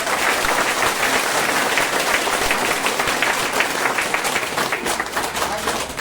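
A crowd claps hands together in loud, dense, continuous applause, close and full, holding steady for several seconds without a break.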